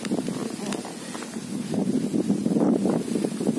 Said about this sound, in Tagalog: Wow, ang sarap ng hangin.